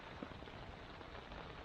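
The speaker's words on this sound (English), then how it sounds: "Rain's lashing in from that end." Rain lashes against a lightweight Nightcat tent with no poles, a dense steady patter close by with a couple of sharper drop hits on the fabric, fairly faint and without talking.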